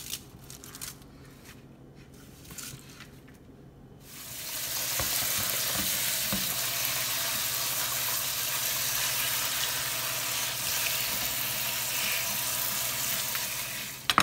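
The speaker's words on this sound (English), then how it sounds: "I'm gonna get my strainer and I'm gonna rinse my cabbage." Cabbage rinsed in a kitchen strainer under running tap water, a steady, close hiss of flowing water that starts after about four seconds of quieter handling noise and continues evenly to the end, with no talking.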